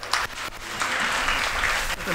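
A classroom of students claps for a classmate at a career counselling session, a dense burst of close applause that lasts about two seconds.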